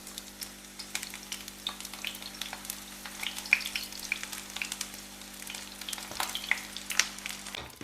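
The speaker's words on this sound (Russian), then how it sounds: "Пока я баклажаны обжариваю" Eggplant slices fry in hot oil with a continuous close crackling sizzle and scattered sharp pops, with a low steady hum beneath.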